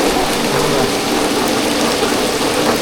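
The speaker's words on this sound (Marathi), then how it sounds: "हा पाऊस लागतो कंटिन्यू मंडळी" Steady, dense monsoon rain pours continuously over a Konkan village home, a loud even hiss with no pauses and no voices.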